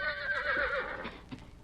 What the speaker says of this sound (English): It was the whinny of a horse.